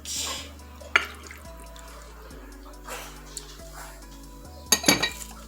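Fruit salad with milk is stirred in a bowl, a few bright clinks and scrapes of a spoon against the dish, near and sparse, over a low steady hum with quiet gaps between strokes.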